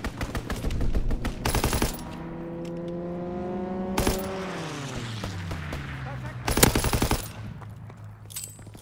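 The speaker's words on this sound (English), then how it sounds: "Strafing run inbound." Aircraft strafing run in a World War II shooter game, Call of Duty WWII: loud bursts of machine gun fire at the start, middle and near the end, with a plane engine droning and falling in pitch as it passes overhead.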